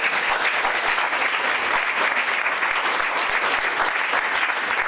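Steady applause from an audience at an expert talk at Omegna Express 2013, dense continuous clapping close by that lasts the whole stretch without pause.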